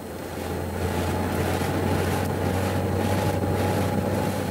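A Wartburg car engine runs under slight throttle on a steep downhill, a steady low drone with rushing wind and road noise building slightly after the first second.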